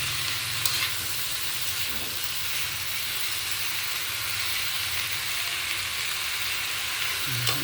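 Fresh farm bitter gourd, ampalaya, sautéing in a pan: a steady, close sizzle and hiss runs throughout with faint scraping, and no one talks.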